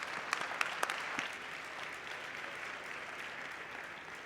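Audience applause at a congress hall, a steady wash of clapping from a crowd with a few sharper nearby claps at the start, continuing evenly throughout.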